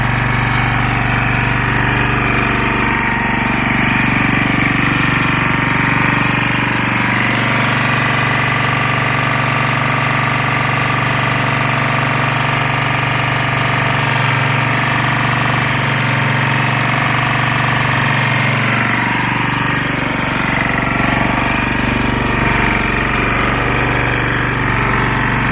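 A Lombardini 6LD260 diesel engine, unused for ten years, idles steadily for a long stretch after a cold start, a loud, constant low rumble and rattle with no voices.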